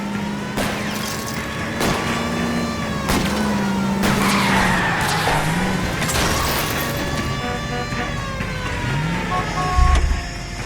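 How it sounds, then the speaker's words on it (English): Tires skidding and screeching during a car chase in the L.A. Noire video game, long wavering squeals over a roaring engine with sharp impacts, loud and close. "Keep it steady and I'll try to bust his tires."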